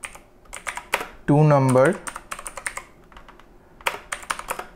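Quick bursts of clicky keystrokes on a computer keyboard while someone types code, with brief spoken words breaking in between.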